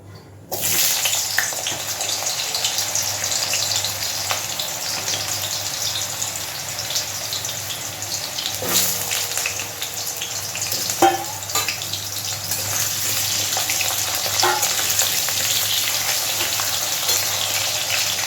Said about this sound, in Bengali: দেখুন তেল খুব ভালো করে গরম হয়ে গেছে। এবার আমি তেলের মধ্যে দিয়ে দিচ্ছি আলু।